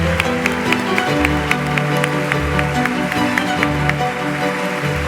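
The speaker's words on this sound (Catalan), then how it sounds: "Un fort aplaudiment per ells, sisplau." Conference audience applauding guest researchers, a steady clatter of clapping hands over sustained background music tones, continuous for the whole stretch.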